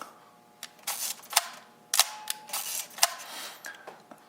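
A series of sharp mechanical shutter clicks from a Nikon FE film SLR at uneven intervals, some quick and light, others crisper, close and fairly loud with no talking.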